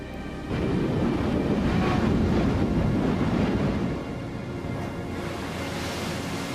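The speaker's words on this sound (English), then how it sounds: "The crashing waves don't let up long enough for them to catch their breath." Stormy sea during a typhoon, a dense continuous roar of crashing waves mixed with heavy wind rush, loud and unbroken, briefly surging then easing slightly.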